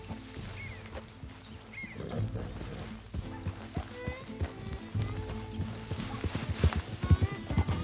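Horse hooves in a video game clip-clop in a steady rhythm over a busy background of ambient sound, moderately close.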